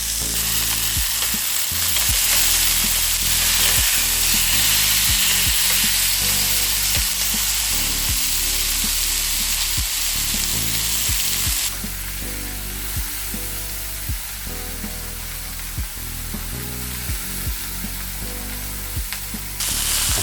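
Beef tenderloin searing in a hot pan, a steady loud sizzle and spatter running continuously throughout, slightly quieter in the second half, with no talking.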